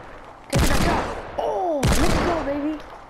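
Two loud gunshots from a golden gun in a video game, the first sharp blast followed a little over a second later by a second, each trailed by whooshing, ringing tones.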